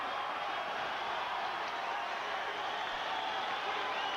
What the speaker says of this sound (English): the crowd slowly getting up, applauding and saluting two great warriors